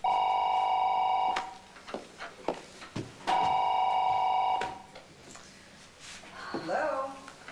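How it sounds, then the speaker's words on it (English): An old landline telephone rings loudly twice in long electronic bursts, separated by a pause holding a few knocks and shuffles, followed by a voice speaking. "I have to take this phone call in private."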